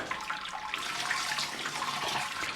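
Sparge water poured by ladle into a mash for a Belgian-style saison with sea buckthorn, a close splashing, gurgling pour running continuously at moderate level.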